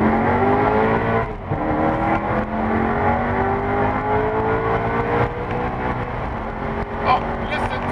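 Maserati GranTurismo S engine revving loudly and steadily throughout, its harmonics climbing as it pulls away and easing briefly before building again, with people talking over it.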